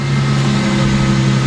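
A Ford Mustang left parked for two years runs after starting, its engine humming loud and close with a steady low drone and slight revving, no talk over it.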